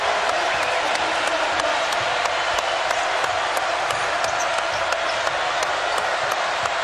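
A basketball arena crowd at an NIT quarterfinal between Western Kentucky and Oklahoma State roars as it rises to its feet, a loud, sustained wall of cheering and noise with faint squeaks and thuds underneath.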